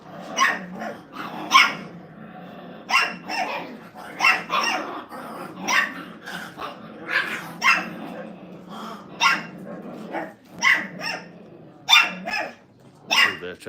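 Five-week-old Brittany puppies in a kennel crate growl and bark at each other in a steady stream of short yips, barks and rumbling growls, close and lively throughout.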